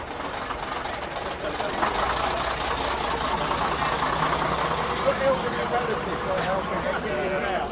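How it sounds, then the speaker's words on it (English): A London route 101 bus to East Ham idles and runs nearby with a steady low diesel rumble and knock, while people talk over it. "Oh, we've got a London bus behind us."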